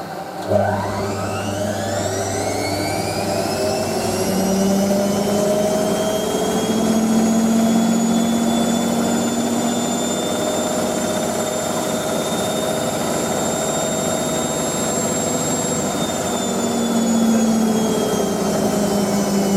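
A Hotpoint 9530 Electronic 1000 Plus washing machine spins at high speed near 1000 rpm, giving a steady loud whine with rising tones over a low drum rumble, sustained throughout with no talk.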